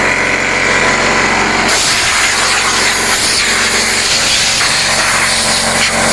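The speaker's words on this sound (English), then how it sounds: "I'm going to go on to the other side of the carriage and just blow out around the motor and blow those screws off" A compressed-air blower roars steadily and loudly, blasting dust off a Frontier OS27 sawmill's carriage motor and screws. The hiss shifts in tone partway through, with no voices over it.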